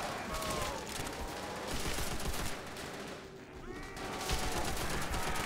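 Continuous bursts of video game gunfire aimed at zombies, with near, rapid shots filling most of the clip and a brief dip in the firing before it picks back up.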